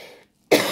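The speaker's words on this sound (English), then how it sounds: "Sorry, I have this cough." A single sharp cough bursts out close to the mic after a short silence, following the tail of an earlier sound.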